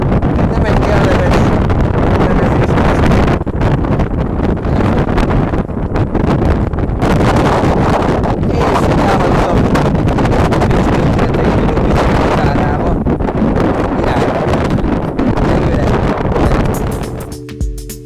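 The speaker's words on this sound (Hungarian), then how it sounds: "Hatalmas szél van. Nagyon fúj." Strong wind buffets the microphone continuously, a loud, rough roar that swells and dips in gusts, with a voice faintly present underneath.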